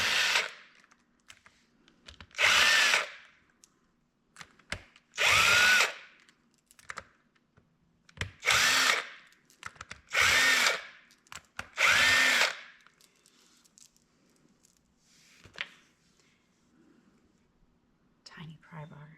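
A power tool spins 10 mm bolts out of the front differential on a RZR, about six loud, close whirring bursts of a second or so each, separated by pauses with quiet speech.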